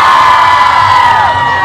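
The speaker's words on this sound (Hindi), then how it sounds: "इनके लिए पहले भरपूर तालियां।" A large crowd at a PTI political rally in Gujrat cheers loudly, a dense roar of voices with shouts and whoops close and sustained throughout.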